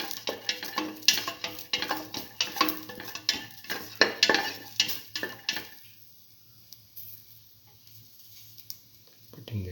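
A spoon scrapes and turns black lentil and ash gourd rice with mint leaves and salt in a pot, in rhythmic close strokes for about six seconds, then falls quiet apart from a faint low hum.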